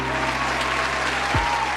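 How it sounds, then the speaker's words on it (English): Applause sound effect, a short continuous patter of clapping from a crowd with a faint low background tone. "Give him a round of applause, Zima."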